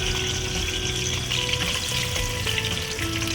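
Koi fish frying lightly in oil sizzle in a pan, a dense continuous crackle and hiss at close range with no talking.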